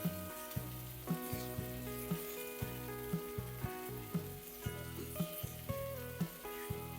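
Frozen peas sauté in a pan for a peas curry, a steady soft sizzle with regular scraping stir strokes, while music plays throughout.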